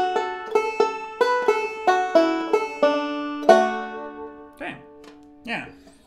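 A banjo picks two bars of a melodic arrangement of Sarah Armstrong's tune, bright plucked notes in an even rhythm that ring out, followed by a few softer muted sounds, close and clear.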